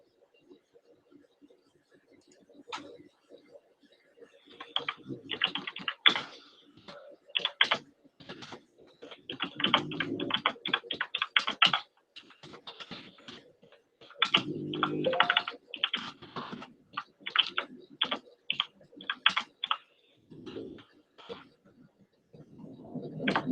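Rapid clicking of a computer keyboard in uneven bursts, close by, with short pauses between runs of typing.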